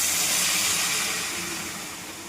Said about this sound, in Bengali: ভেজে নিয়েছি, এবার হালকা একটু গরম জল দিয়ে দেবো।